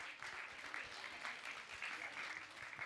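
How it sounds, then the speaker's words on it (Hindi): Audience at a Jain religious discourse claps loudly to honour a family, a continuous even patter of many hands, faint and distant. "ऐसे परिवार के लिए और ऐसी बहन के लिए आप जोरदार ताली बजा कर इनका सम्मान करें।"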